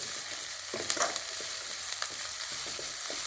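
Sliced onions and slit green chillies sauté in oil in a pan for gobi manchurian, a continuous close sizzle with a few soft scrapes and clinks of a spatula, no voices.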